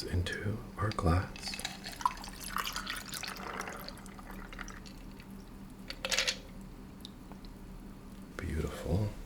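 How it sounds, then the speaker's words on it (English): A chilled cocktail on the rocks is poured through a strainer into a glass at a bar, with close, soft trickling, dripping and ice clinks. Faint whispering runs underneath. "pour this into our glass."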